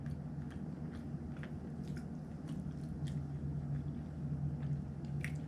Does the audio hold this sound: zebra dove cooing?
no